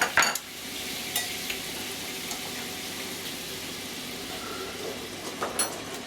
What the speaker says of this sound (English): Add that creme fraiche in. Now I'm going to stir that sauce up.